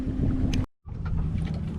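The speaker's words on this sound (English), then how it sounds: "Now listen to that damn engine for a little bit." A sailboat's engine drones steadily at sea on a solo coastal passage off Southern California, a low continuous hum with wind buffeting the microphone, briefly cut out then resuming.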